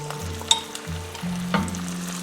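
Chinese kale stir-fried in hot oil in a wok, with taro to follow, sizzles loudly while a spatula scrapes and clatters through the greens in a few quick strokes.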